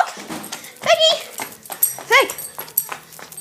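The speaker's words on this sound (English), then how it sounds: "This is my cousin's dog." A dog whimpers and yips in short, high, wavering cries, close and fairly loud, repeated several times over a few seconds with brief gaps between them.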